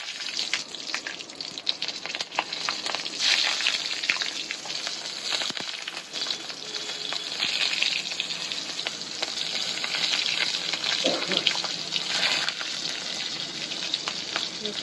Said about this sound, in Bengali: কড়াইতে কিছুটা সর্ষের তেল নিয়ে গরম করে নিয়েছি ভালো করে। এবার এর মধ্যে আমি দেব কালো জিরে আর কিছুটা ফাটানো কাঁচা লঙ্কা কয়েকটা।